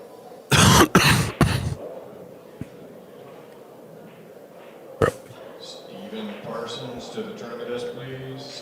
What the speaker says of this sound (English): Coughed in your ear.